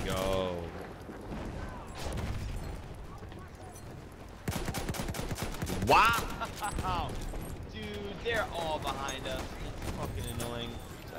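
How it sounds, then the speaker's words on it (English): Pistol and other gunfire in the Battlefield 1 video game, with repeated sharp shots and bursts mixed with battle noise, heard under continuous talking. "I just sniped a guy out with a pistol."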